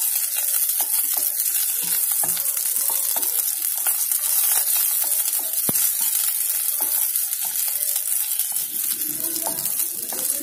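Green chillies fry in a pan, giving a steady close sizzle and crackle throughout, with frequent clicks and scrapes as they are stirred.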